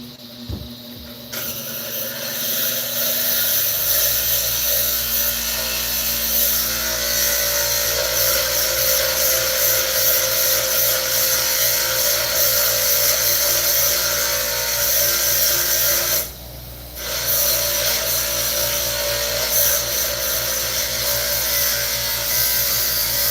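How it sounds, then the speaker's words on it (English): A metal part from a Bolens Eliminator 1800 Hydro tractor is ground down with a power tool, producing a steady, loud, continuous grinding whine that runs nearly unbroken, with one brief pause, close to the microphone. "This one's already bent and grinded on, so I'll just grind some more off of this one."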